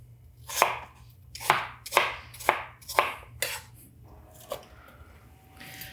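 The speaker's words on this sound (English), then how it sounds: "we've got all of our apples chopped up" A knife chops through Granny Smith apples on a board in about six crisp, evenly spaced cuts, close and loud over a low hum, with a lighter tap at the end.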